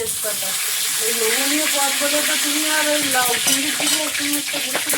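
Oil and whole-spice tempering frying in a wok with a loud, continuous close sizzle, overlaid by a faint wavering tonal whine, with no speech.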